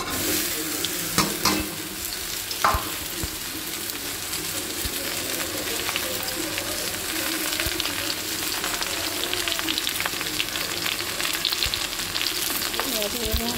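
Sliced ridge gourd fries in a pan, giving a steady close sizzle and crackle with a few scraping stirs of a utensil near the start and no talking throughout.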